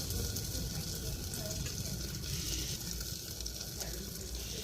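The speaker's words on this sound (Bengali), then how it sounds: "এ পর্যায়ে আমি গরম পানি দিয়ে দেবো" Hot water poured onto rice frying in a pan for chicken biriyani, giving a steady soft sizzle and bubbling hiss, fairly quiet throughout with faint background sounds.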